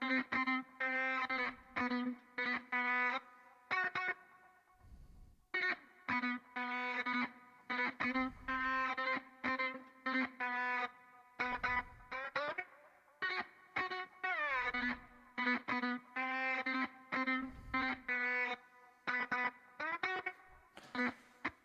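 Saxophone loop pitch-shifted up and down with the Soundtoys Little AlterBoy plugin, repeating short melodic phrases with a processed, slightly synthetic tone, close and clean with brief gaps between notes.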